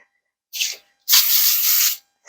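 Cooking spray hisses into a cake pan in two bursts, a short puff followed by a longer steady spray of about a second, close and clear.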